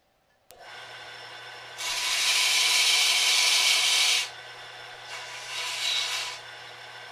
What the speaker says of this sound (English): I'm going to belt sand just a little bit of the length off of this tube